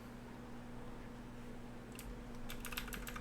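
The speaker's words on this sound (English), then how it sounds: "you want to keep clicking F2 as you go along with it" Computer keyboard key being pressed repeatedly, a quick run of close, crisp clicks in the second half over a steady electrical hum, with no talking.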